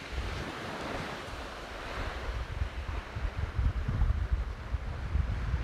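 Ocean waves washing in at high tide on Nang Tong Beach in Khao Lak, a steady loud roar of surf with wind buffeting the microphone, building slightly toward the end.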